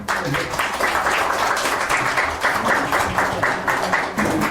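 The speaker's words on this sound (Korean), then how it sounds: "응원의 박수 한번 부탁드릴게요" An audience at a seminar claps together in a dense, steady round of applause that carries on throughout, with a few voices mixed in.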